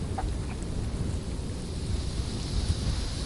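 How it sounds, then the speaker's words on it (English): Steady rain with a low rumbling thunderstorm wash, a constant noisy hiss and deep rumble at moderate, even loudness with no voices. "it's starting to rain while you leave Phandalin"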